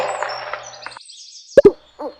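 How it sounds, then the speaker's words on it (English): An owl hoots in short, clear calls close by, a pair of sharp hoots followed by a softer one after a brief quiet stretch, with no talk over it. "Owl."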